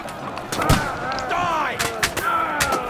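Medieval guns firing in the video game Kingdom Come Deliverance II: several sharp cracks and booms scattered through a constant wash of battle noise, with shouting voices and whistling tones mixed in.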